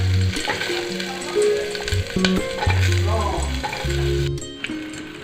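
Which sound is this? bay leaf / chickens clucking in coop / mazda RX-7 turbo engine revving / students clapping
bay leaf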